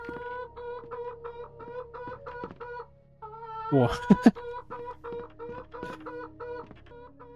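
Rhythmic, regular clucking from a rooster in Hand Simulator Horror repeats steadily, with a short burst of louder noise midway and a brief spoken exclamation.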